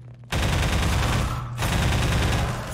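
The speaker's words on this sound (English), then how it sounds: "countless crispy gunfire stemming from Half-Life 2" Rapid, dense automatic gunfire from Half-Life 2 rattles continuously at close range through old gaming speakers, a crisp sustained burst with a brief dip midway before resuming.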